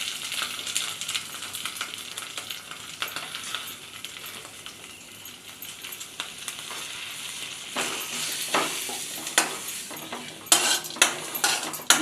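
Grated coconut with cumin fries in a pan with a steady sizzle, while a metal spoon stirs and scrapes against it in frequent close clinks that grow busier toward the end; no one speaks.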